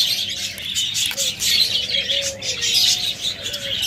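Pet budgerigars, cockatiels and lovebirds kept for sale chirp and whistle in a steady, busy chorus, with a few clearer tonal calls rising above the twittering, fairly close and without talk.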